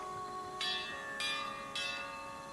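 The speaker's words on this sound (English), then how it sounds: "Who's rung the bell and why?" Church-style bell struck three times at even intervals in Pillars of Eternity II, each toll bright and ringing over a steady musical drone, moderately loud with no talk.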